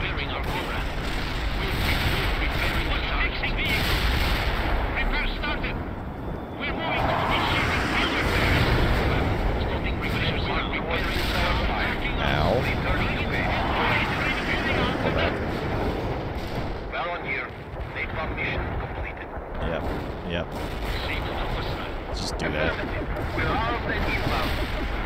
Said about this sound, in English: Targeting napalm strike.